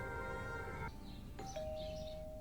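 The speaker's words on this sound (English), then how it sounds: "Their doorbell was a rocker switch with a spring return." A doorbell in a movie scene, a rocker switch with a spring return, rings with two clear tones in quick succession, a faint electronic ding-dong over a low background hum.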